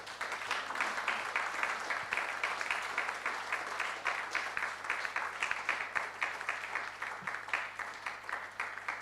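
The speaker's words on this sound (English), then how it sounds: "Let's give a big round of applause again" Steady applause from an audience at a Nigeria Prize for Science press conference, a continuous wash of many hands clapping at an even level for the whole stretch.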